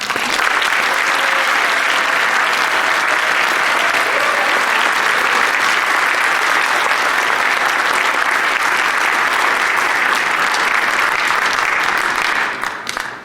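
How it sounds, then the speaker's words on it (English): An audience at a high school scholastic honors night gives a long, even round of applause, dense clapping held at full strength before tapering off abruptly at the end. "if you'll join me again for a round of applause for this year."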